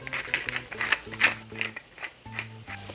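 A pepper mill grinds black pepper over a pan of ground beef filling for gorditas, giving a close, steady dry ratcheting crunch in quick repeated turns for a few seconds with no talk.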